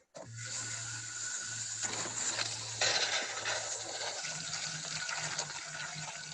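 Water gushes from an on-demand water heater into a birth tub set up in a forest, a steady close rushing flow with a low hum underneath that shifts partway through.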